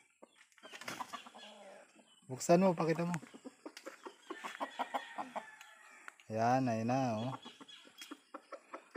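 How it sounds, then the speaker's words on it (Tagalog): Chickens being put into a simple rural coop cluck and squawk in two loud bursts, with scattered softer clucks between them, while someone speaks nearby. "ilalagay na yung manok ng tito niya"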